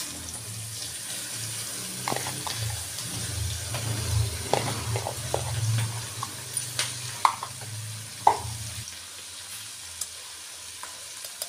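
Chopped, washed spinach (palak) goes into a hot pan of peas and paneer sabji. A steady low sizzle runs under intermittent scraping stirs and a few sharp clacks of the spoon against the pan.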